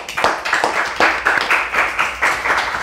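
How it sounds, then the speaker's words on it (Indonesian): Audience clapping at a comedy roast show, a loud, fairly rhythmic patter of distinct hand claps from a small crowd close by, sustained for a few seconds without talk. "Tepuk tangan untuk mereka"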